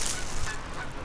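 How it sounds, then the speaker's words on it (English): A flock of geese honks in a dense, overlapping chorus during a blizzard, the calls loud and continuous through the brief moment with no voices over them. "Full of geese."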